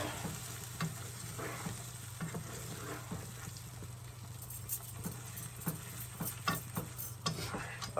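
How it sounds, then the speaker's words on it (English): Jollof rice sauce of roasted peppers cooking down in a pot, with a steady low bubbling sizzle and a spoon scraping and stirring in repeated close strokes, with no talking. "I'm going to let this sort of cook down. So let's just stir that round."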